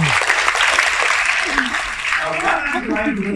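Applause from an audience runs throughout while a voice talks over it toward the end.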